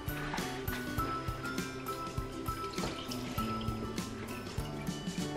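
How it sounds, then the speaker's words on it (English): Water poured from a vessel over feijoas packed in a jar for a homemade fizzy drink, a steady close-up trickling and splashing fill with small drips, with quiet talk in the background. "So then, cover these in water."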